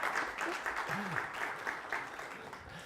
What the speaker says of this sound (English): Can I have an applause for my young actors?